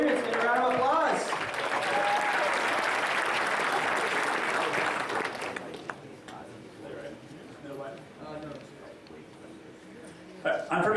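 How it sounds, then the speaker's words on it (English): Audience applause at a hackathon opening ceremony, loud dense clapping for the first half that thins out after about six seconds, with cheering voices and talk mixed in, then a fresh burst of claps near the end. "Give a round of applause."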